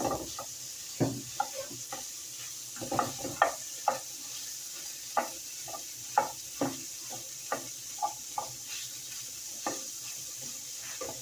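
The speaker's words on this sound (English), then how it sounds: "got your chorizo so far in your skillet, plant-based chorizo" Plant-based chorizo fries in a skillet with a soft, constant sizzle, broken by irregular scrapes and taps as it is stirred and broken up, close and fairly quiet.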